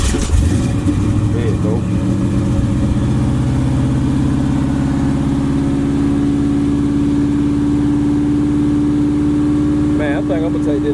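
Engine of a Chevy box car cranking and catching, then settling into a loud, close, steady idle with a rough low rumble. Someone speaks briefly near the start and again near the end.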